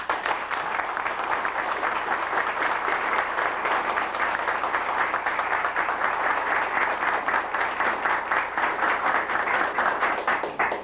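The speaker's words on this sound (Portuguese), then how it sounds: "pedir aos presentes uma ovacionada salva de palmas" A seminar audience at a 2002 agroecology event gives an ovation for Professor Ana Primavesi, with dense, steady clapping from many hands holding at an even, loud level for about eleven seconds.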